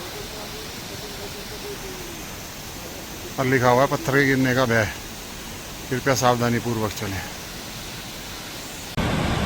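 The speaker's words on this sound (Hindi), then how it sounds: "दूर से भी आवाज़ सुनाई दे रही होगी मंदाकिनी की, कितनी तेज, बहुत भयंकर।" The Mandakini river and its waterfall on the Kedarnath trail give a constant loud rushing roar, while someone speaks over it in two short bursts.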